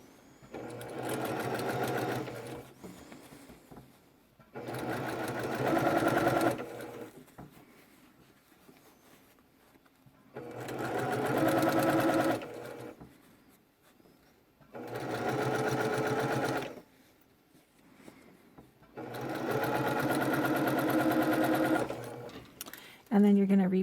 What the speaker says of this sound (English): as you feed it through the machine, it'll flatten out and you can get your stitch in place.